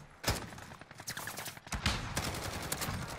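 Gunfire from a first-person shooter video game, sharp loud shots and rapid bursts repeating across a few seconds with no talk over them.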